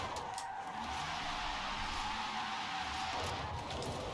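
Hyundai Ioniq 5 N electric car sliding with tires skidding and squealing, a sustained broad screech that shifts and cuts off near the end, heard from inside or close by.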